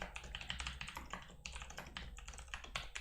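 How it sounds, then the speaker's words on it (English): Typing on a computer keyboard: quick, uneven runs of light clicking keystrokes, close and fairly quiet, with no talk over them. "So actually, I'll type it."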